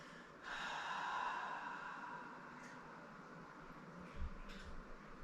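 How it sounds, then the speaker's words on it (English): A single long, steady exhale through an open mouth that starts abruptly, sounds close and breathy, and fades slowly over several seconds, followed by faint soft rustles. "Open the mouth and exhale."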